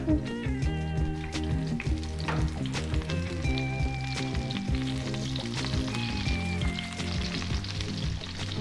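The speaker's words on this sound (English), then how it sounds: "Get a nice saute on it" Food seasoned with salt and pepper sizzles steadily in a hot pan over high heat, a close, continuous crackle with faint scraping as it is stirred, and no voices.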